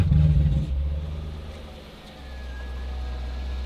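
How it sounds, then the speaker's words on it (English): A Corvette C8 Z06 at a salvage auction lets out a loud, low exhaust rumble that drops off abruptly after under a second, leaving a quieter, steady idle-like drone for the rest. "If you guys heard that exhaust pop just a little bit and then get really quiet"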